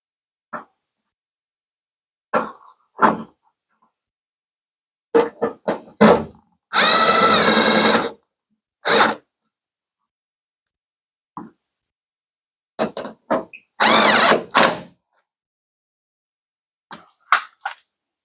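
A power tool runs in two short, loud bursts while tightening bolts on a truck bed being installed on a 2500 HD pickup, separated by scattered knocks, clatter and small handling sounds close by.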